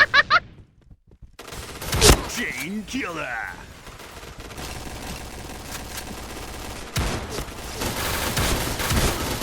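Shotgun gunfire in the online shooter game Point Blank: a few loud blasts spread over several seconds, set among game noise and a voice.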